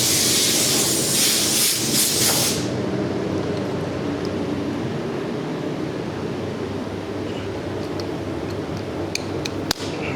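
Compressed air hisses loudly from a paint sprayer line, a strong broadband rush that dominates the first few seconds and then settles into a steady, softer hiss with a sharp click near the end.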